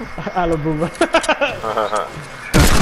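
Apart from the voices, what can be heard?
gunshot headshot in video game Fortnite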